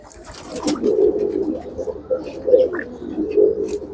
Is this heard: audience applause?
no